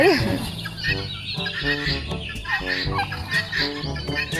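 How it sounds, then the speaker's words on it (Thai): Several turkeys gobble repeatedly in loud, rapid warbling bursts, overlapping one another close by. "ไก่งวงเพียบเลยดู ดูดูดูมันร้องตลกไป"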